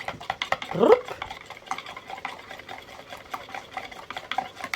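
A heaped teaspoon of turmeric stirred into water for orchid care, a spoon clinking and scraping against the container in quick, irregular strokes, close and fairly loud, with one stronger knock near the start.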